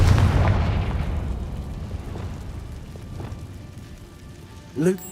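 In the Hogwarts Legacy video game, a Confringo spell detonates in a loud, booming burst that rumbles down and fades over several seconds. A short voice-like sound rises near the end.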